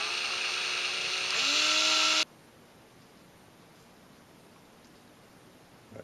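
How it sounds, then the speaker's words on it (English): A power drill whines loudly for about two seconds, its pitch shifting as it bites into small plastic pieces, then stops, leaving quiet room noise. "I'll drill a couple of those here"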